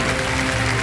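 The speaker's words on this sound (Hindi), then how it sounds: "तालियां" A studio audience at a Kaun Banega Crorepati quiz show episode claps in a brief, dense burst of loud applause.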